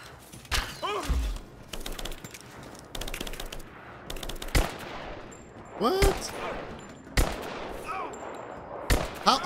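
Rapid bursts of gunfire in Rise of the Tomb Raider as enemies are shot in a cave, with several separate volleys of sharp shots and impacts spread across the stretch, loud and close.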